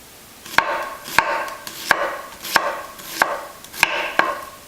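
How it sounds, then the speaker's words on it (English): A sharp knife slices an onion into thin strips on a cutting board, six crisp, evenly spaced chops, close and clear with no talking. "I'm resting my knife against my knuckle here, and that gives me a nice guide so I can make nice thin strips."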